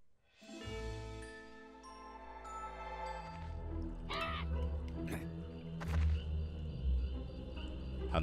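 Crows cawing in the video game Pumpkin Jack's spooky swamp level, several harsh calls layered over chiming, tinkling game music and ambient tones, with no talk over them.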